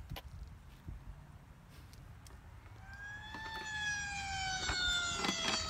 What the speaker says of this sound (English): Hear a siren? I hear it.